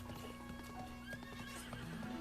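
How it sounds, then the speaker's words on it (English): A horse in Zelda Breath of the Wild whinnies after being struck, a game neigh over a steady clip-clop of hooves and a low background tone. "Oh, they hit my horse."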